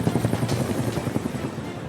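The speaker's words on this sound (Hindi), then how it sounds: "रेस्क्यू ऑपरेशन के लिए हेलीकॉप्टर पहुंचा" A rescue helicopter flies over flood-hit Khyber Pakhtunkhwa, its rotor beating in a steady, rapid thump with a broad roar of engine noise behind it.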